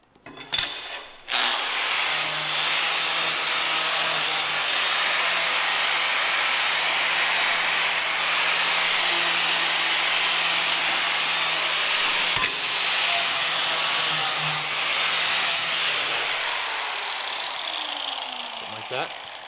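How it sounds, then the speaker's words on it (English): Flap disc grinding and softening the edges and corners of hand-forged metal door handles, a loud continuous abrasive hiss holding steady close up for most of the span with a few brief breaks. "Now I'm going to use the flap disc to soften the edges a little bit and around the corners just slightly also."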